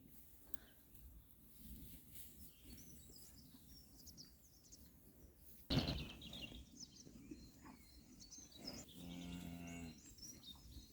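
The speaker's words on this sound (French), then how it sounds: "la vache, elle appelle son petit" A cow moos repeatedly on a farm in winter, calling to her young calf, the low lowing calls close and prominent over a steady outdoor background with faint bird chirps.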